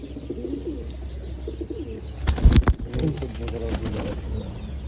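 Soft pigeon cooing mingles with a voice, the low throaty calls rising briefly louder in the middle before settling back under the talk.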